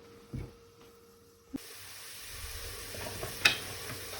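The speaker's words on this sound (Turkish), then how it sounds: "Soğanımı kavrulması için ocağıma aldım." Onions sautéing in a pan on a stovetop begin a steady, close sizzle after a sharp clatter, hissing continuously and growing slightly louder, with a few small pops near the end.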